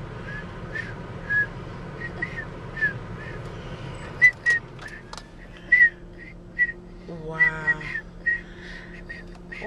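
Short, breathy whistled notes from a child come in uneven bursts, some wavering or sliding, with quiet background hum and a rattling noise midway.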